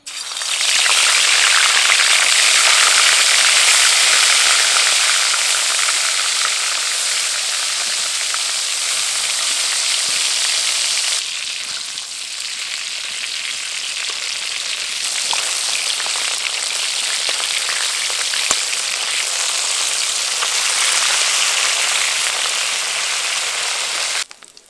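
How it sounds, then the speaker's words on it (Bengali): Snakehead fish fry in mustard oil, giving a loud, steady sizzle and spatter up close that eases slightly midway and then carries on without talk. "মাছগুলো ভেজে নেব।"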